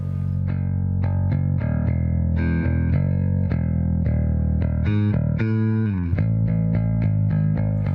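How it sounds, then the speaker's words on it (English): A bass guitar through a compression pedal, a 200-watt amp and 4x10 and 2x15 cabinets plays a sequence of smooth, even notes with slides, its tone compressed and slightly effected, no voices. "Here I am using a bass pedal with built-in compression, which produces very smooth and nice sounding tones."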